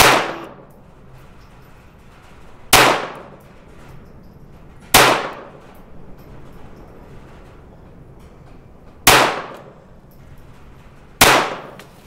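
A Kadet rifle fires five sharp, loud shots during timed rapid fire, spaced a few seconds apart, each with a short decaying ring and quiet gaps between.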